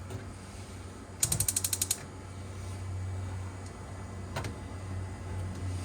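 An RV stove burner igniter in a 2021 Forest River Salem Hemisphere 36FL fifth wheel snaps off a quick run of about eight sharp clicks, then one lone click later, over a steady low hum.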